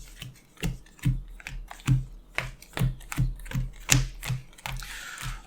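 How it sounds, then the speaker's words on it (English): Rapid clicking card-shuffle sounds from a Magic: The Gathering digital game, a steady run of about a dozen sharp taps with a brief airy swish at the end, close and fairly loud. "Aggressive pile shuffling!"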